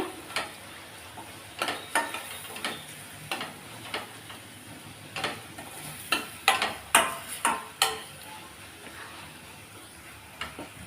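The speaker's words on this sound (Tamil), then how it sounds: "இதையும் நல்லா இதிலையே பச்சை வாசனை போகிற அளவுக்கு நல்லா வதக்கி விட்டுறலாம் அந்த எண்ணெயிலையே" Kuzhambu powder sautéing in oil in a pan for green gram kuzhambu, a soft steady sizzle punctuated by a dozen or so sharp clicks and scrapes of a spoon stirring against the pan, close and moderately loud.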